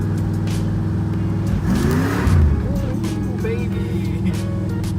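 A cold, carbureted Camaro V8 idles roughly, heard close up as a loud, lumpy burble with one brief throttle blip in the middle; someone speaks briefly over it.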